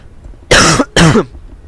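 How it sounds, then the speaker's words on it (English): A commentator with lingering bronchitis coughs twice in quick succession, loud and close to the microphone, with a short gap between the two harsh bursts. "apologize for that cough"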